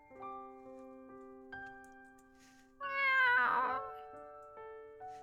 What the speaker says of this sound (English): Leith meows and lies down underneath the table.